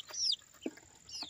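Rooster and hens on a small homestead, a couple of short rising calls and a brief low cluck, quiet and somewhat distant against a faint background.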